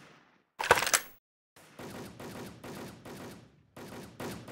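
Gunfire in the online shooter Wolfteam: one loud sharp shot, then a run of rapid automatic bursts in short repeated volleys, close and dense, with no voices.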